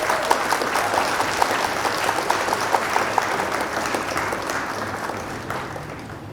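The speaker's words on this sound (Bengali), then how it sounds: "রানীর কবিতা শুনে এখানে তো সবাই হাততালি দেয়।" An audience applauds a child's poem recital, a brisk run of many clapping hands that holds steady, then thins and fades toward the end, with no talking over it.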